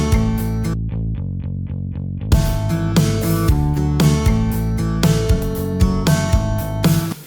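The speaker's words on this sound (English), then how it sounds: "I'm going to go ahead and just add in like a Rickenbacker bass from Contact." Palm-muted Rickenbacker bass virtual instrument from Contact, lightly limited and EQ'd, playing short chugging notes in a country song arrangement, mostly under a full mix with guitars and other instruments, loud and steady throughout.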